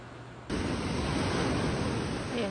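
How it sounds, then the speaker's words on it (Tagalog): Large ocean waves break on a beach, starting after a brief quiet lead-in and then giving a loud, steady rushing wash of surf with no voices. "ang lalaki ng alon, so hindi ka makakalangoy"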